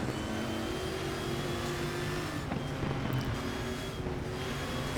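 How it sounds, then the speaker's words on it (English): Big block race car engine in the RaceRoom racing game, a loud rough lumpy lope held steady and then rising briefly as the throttle opens, heard alone and close. "you can just hear that big block loping."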